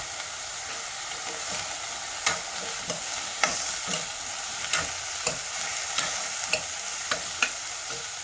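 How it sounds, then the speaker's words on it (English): Capsicum and carrot roasting over a high flame in a cooking pot for a one-pot Mexican beans and brown rice dish, giving a steady close sizzle with repeated sharp clicks and scrapes of stirring. "Along with that, I will also add my capsicum and carrot. I'll roast them also a bit."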